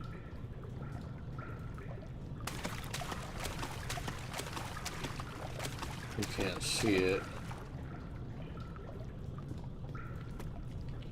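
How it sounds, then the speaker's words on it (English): Water flowing and pouring in the horror video game Amnesia, a steady trickling wash that runs under a voice throughout and swells briefly near the end. "The water in this game kind of freaks me out"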